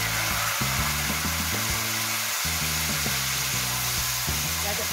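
Garlic, shallots and seasonings stir-fry in a hot pan, giving a steady, loud sizzle and hiss throughout, while low tonal hums and clatters sit underneath.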